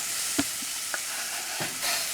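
Peppers and celery sizzle in a pot for shrimp jambalaya, a soft steady frying hiss with a few faint clicks of stirring, quiet and close.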